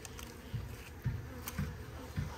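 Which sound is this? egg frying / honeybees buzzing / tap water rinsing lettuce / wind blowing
honeybees buzzing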